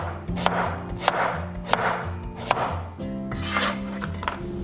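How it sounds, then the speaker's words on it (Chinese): A knife slices through a peeled sweet potato on a board, a series of firm, evenly spaced cuts close by with a low background hum and no talking. "再把红薯切片"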